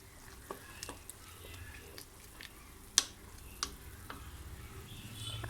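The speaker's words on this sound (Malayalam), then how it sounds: "ഇനി അത് നന്നായിട്ട് മിക്സ് ചെയ്തിട്ട് സിമ്മിലിട്ടാൽ മതി" Rice with squeezed lemon juice being mixed in a pot for fish biryani, with a few soft scraping stirs and faint clicks over a low steady background; no talk.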